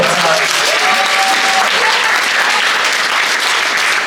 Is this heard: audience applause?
yes